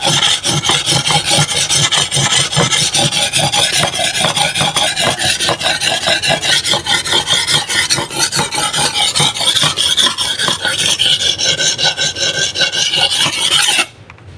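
Steady rasping strokes of a machete being sharpened on a whetstone, rhythmic back-and-forth scraping that fills the clip at close range, stopping abruptly at the end.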